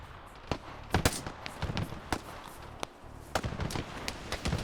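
Scattered gunshots echo through an ArmA military operation, sharp single cracks and small clusters at irregular intervals, some near and some farther off, with no talk over them.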